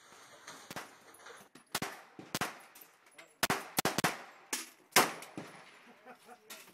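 A Sig P238 pistol fires outdoors in a quick irregular string of sharp, loud cracks, some shots close together, with faint voices in between.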